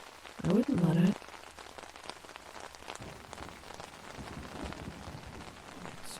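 Rain falls steadily on a campsite, a soft continuous patter that carries on alone after a brief voice-like sound at the start.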